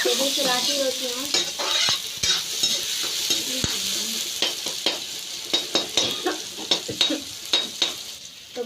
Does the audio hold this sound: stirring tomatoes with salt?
yes